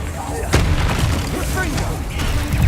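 Confringo fire spell blasts in Hogwarts Legacy land as booming bursts with crackling debris, a sharp explosion near the middle and another toward the end, layered under a voice shouting spell names.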